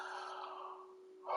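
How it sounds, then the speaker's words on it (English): A person yawns during game commentary, a long drawn-out breathy exhale with a steady tone that fades over about a second, then a brief rise in breath at the end; no words spoken. "Sorry, I keep on yawning."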